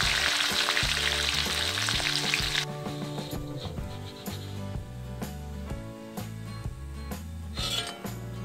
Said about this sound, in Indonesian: Setelah itu kita goreng maconya.